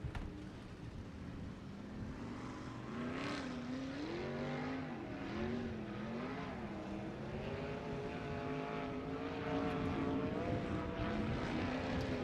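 USAC sprint cars race around Knoxville Raceway, a loud, steady engine roar that rises and falls with gear and throttle changes for the whole stretch, no voices over it.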